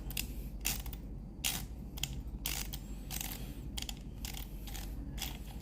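Timemore S3 hand coffee grinder with its crank turned steadily, giving a close, repeating burst of gritty grinding and ratcheting clicks about every half second, alone without talk.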